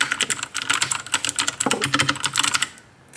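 Rapid, steady typing clatters on a white backlit computer keyboard up close, keys tapping continuously before trailing off near the end.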